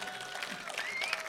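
A concert audience gives faint, distant applause before a singer's song, heard as a quiet, even patter of clapping with a thin tonal line running through it.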